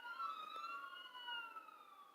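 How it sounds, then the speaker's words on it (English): Faint sirens wail in the distance, several rising and falling tones overlapping steadily and far off, with no talk over them. "Sirens in the background."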